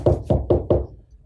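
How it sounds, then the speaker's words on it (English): Four quick, firm knocks on a table during a card game, evenly spaced and close, fading into quiet room sound. "I'm knocking and I'm checking."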